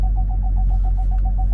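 Rapid, evenly spaced electronic beeps from a car's reverse parking sensors repeat over a loud low engine hum while backing up with the tailgate down, close by, with no voices.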